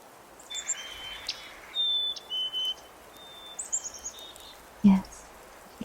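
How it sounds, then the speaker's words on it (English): Chickadees call outdoors in winter with a handful of short, thin, high chirps and whistles scattered across a quiet background, followed by one louder low burst near the end. "Yes, chickadees."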